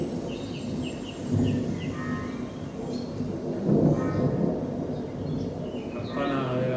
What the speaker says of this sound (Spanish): nos queda una tormenta.